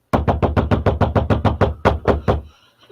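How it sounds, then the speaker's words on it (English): Loud, close knocking on a door, a rapid run of about a dozen sharp, evenly spaced raps, then a slight pause and a final pair before the sound stops. "if someone banged on my door like that"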